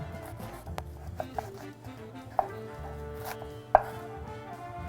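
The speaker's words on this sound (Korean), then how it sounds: "양파부터 토마토 파스타에 들어가는 재료들은 잘게 잘게 자르는 게 더 좋다 생각을 합니다 미니 다이스로 자를게요" A knife chops an onion into small dice for tomato pasta, giving irregular close taps on a cutting board, a few sharper knocks standing out, with no voices.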